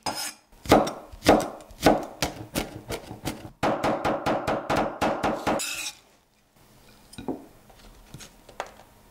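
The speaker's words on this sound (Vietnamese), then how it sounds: "Hành tím này thì mình băm nhỏ ra." A knife minces shallots on a cutting board, sharp close taps in quick bursts, then a faster steady run before quiet handling noises.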